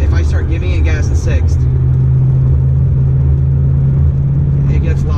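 Inside a 2016 Ford Mustang GT on new wheels and tires, the exhaust gives a loud, steady low drone while the car accelerates in sixth gear, with road noise. A voice is briefly heard early over the constant rumble.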